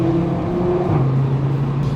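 An Audi RS3 8V five-cylinder engine revs loudly close by, its pitch holding and then dropping into a lower steady drone with throaty exhaust rumble, and no voices.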